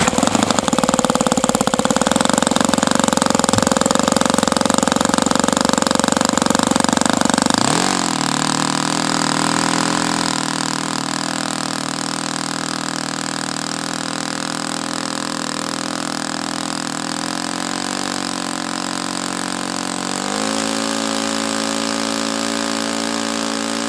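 OS FS 120S four-stroke model aircraft engine cranking and then running, a loud steady buzzing drone that shifts in pitch around eight seconds and again near twenty, close and continuous with no voices.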